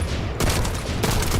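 A Nightmare Hound scout rifle, a DMR-style weapon, fires in the video game The First Descendant, with loud, close, sharp shots cracking out amid dense game noise.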